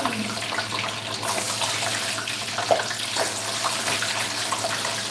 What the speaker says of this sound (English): So I'm just going to put in on this oil that is already really hot.